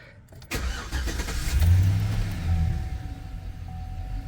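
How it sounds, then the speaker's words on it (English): A truck engine cranks and catches after a battery replacement, starting at half a second and settling into a steady, near idle with a slight rev. "Let's make sure the truck starts."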